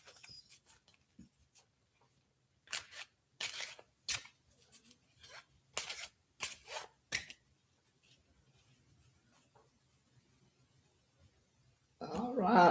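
Playing cards are shuffled in several short, crisp riffling bursts close by, separated by quiet pauses and faint handling noise, ending with a louder rustle.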